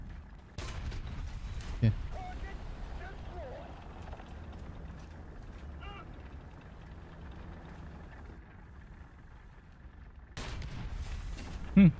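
Cannon shots from an M60 120S tank in War Thunder ring out over a steady engine rumble, with a sharp blast near the start and another near the end while someone talks.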